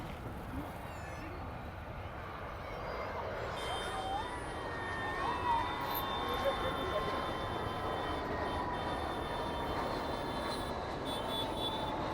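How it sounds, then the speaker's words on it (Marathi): An IndiGo jet's steady distant roar builds slowly overhead beneath outdoor crowd chatter and people talking nearby at a village palkhi procession. "एअर इंडियाचा प्लेन आहे कदाचित."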